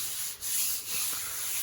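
Hand block sanding a Bondo skim coat over worked car body metal in a shop, a continuous close abrasive rasp with strokes swelling and dipping, alone without speech.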